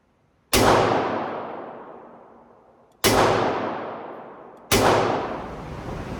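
An HK MP5-style .22LR pistol is fired at a range, three single shots spaced a couple of seconds apart. Each sharp, loud report is followed by a long, slowly fading echo.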